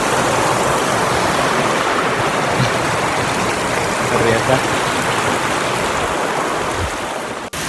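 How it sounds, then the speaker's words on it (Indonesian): A mountain stream rushes loudly and continuously during a hike on Rinjani along the Sembalun-Torean route, a dense close wash of flowing water, with a person briefly speaking over it. "Kita melangkahi sungai."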